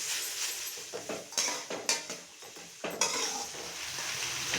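Onion, garlic and curry leaves frying in oil in a pan, a soft continuous sizzle broken by several clinks and scrapes of a stirring spoon against the pot.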